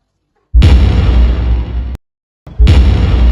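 Two dynamite blasts in a student short film of El Filibusterismo: a loud, booming explosion lasting over a second, a brief silence, then a second heavy blast cut off at the end.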